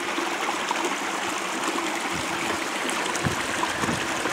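Water flows steadily in a small stream on a farm, a constant close rushing trickle with soft gurgles and no voices.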